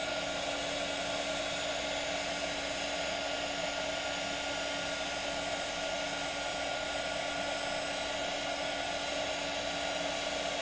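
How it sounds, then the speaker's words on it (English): A heat tool blows steadily over embossing and watercolor on paper, a constant loud whooshing hiss with a faint whine that never changes for the whole stretch, with no talk. "And with the heat tool."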